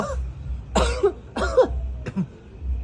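Three or four harsh coughs close up, spaced about half a second apart, hoarse and chesty, with no talking.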